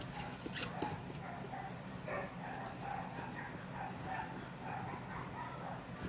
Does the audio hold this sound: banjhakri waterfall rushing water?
no